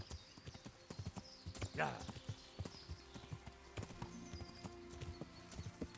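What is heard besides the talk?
horse hooves clip-clopping while riding, from video game Kingdom Come: Deliverance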